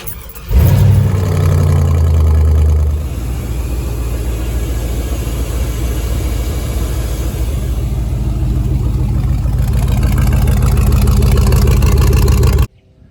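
A 1961 GMC 950 truck with a 5.3 engine and 4L60E transmission cranks and fires up loudly, then settles into a steady, close rumbling idle that runs on until it cuts off abruptly near the end.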